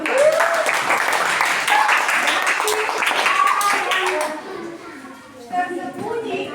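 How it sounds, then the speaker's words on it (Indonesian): A classroom of children clapping for a student group, a steady burst of hand claps mixed with young voices chattering, fading after a few seconds into quieter talk. "Tepuk tangan dulu untuk kelompok 2."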